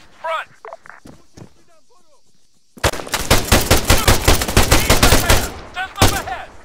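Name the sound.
machine gun fire in the video game Arma 3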